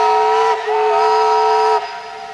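Steam whistle at the Great Roots of Motive Power steam festival in Willits, California sounds a loud, close, sustained tonal blast with a slight pitch shift partway, then cuts off to a fading hiss.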